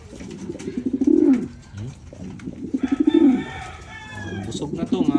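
Pet pigeons coo in several rolling bursts close by during recall training, their low throaty calls rising and falling across the clip, with a few faint chirps mixed in and no talking.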